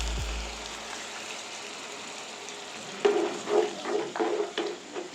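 Yogurt from a small bowl is tipped into a pot of chana pulao and stirred through the rice, giving a few soft, wet scraping and squelching strokes that start partway in after a quiet, hissing stretch.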